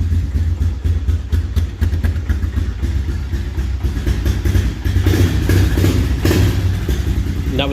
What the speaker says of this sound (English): Choke is off. Fired right up.